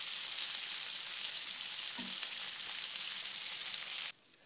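Garlic butter shrimp sizzle steadily on a grill, a loud, even crackle that holds the whole time, with a soft thump partway through. It cuts off abruptly near the end and only faint background remains.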